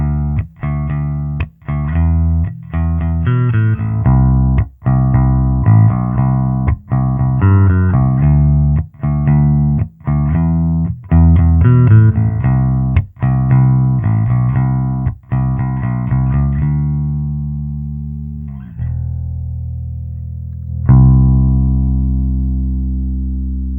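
Recorded bass guitar played through a series of different Hemisphere amp plugin settings, with repeated punchy plucked phrases and short pauses between takes, loud and upfront, ending on a longer sustained note.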